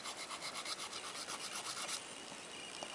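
A nail file rasps steadily across a gel fingernail, working along the underside and sides, in rapid rhythmic back-and-forth strokes, close and dense for two seconds before easing off to a softer scrape, with no voices.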